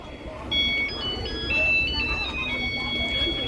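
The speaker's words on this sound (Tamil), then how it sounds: "வண்டி மியூசிக்கை பார்த்தீங்களா பேக் சைடு." A bus at the busy Trichy central bus stand plays a bright electronic melody of sustained tones, loud and close over crowd and engine bustle, with people talking nearby.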